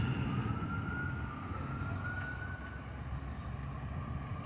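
Fire truck sirens wail at a large fire in Moreno Valley, a faint, distant, steady tone over a low background rumble.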